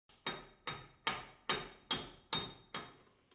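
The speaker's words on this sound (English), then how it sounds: "I used a brass bolt to gently tap the crankshaft through the sheave" A brass bolt gently taps the crankshaft of a model steam engine through its eccentric sheave, giving seven crisp, evenly spaced metallic knocks, close up in a quiet room.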